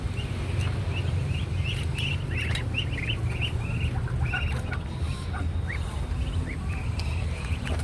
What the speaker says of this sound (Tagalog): Pakain muna tayo guys ng pato.